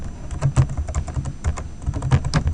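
Code being typed on a computer keyboard in a steady, rapid run of close, loud keystrokes with slight uneven rhythm and no speech.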